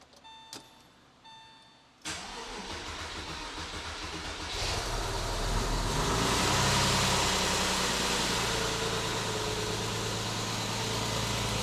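A Porsche 996 flat-six with 177k miles and freshly replaced lifters cranks and fires up, settling into a steady, loud idle that holds to the end, with a faint ticking heard first.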